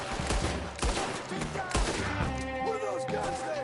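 Western-era gunfire in the video game Red Dead Redemption 2, with a rapid volley of overlapping rifle and pistol shots cracking loudly over game music and ambience.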